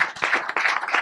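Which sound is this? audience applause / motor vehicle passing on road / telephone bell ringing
audience applause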